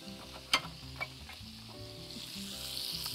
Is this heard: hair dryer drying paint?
no